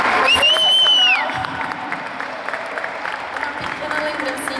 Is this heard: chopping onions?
no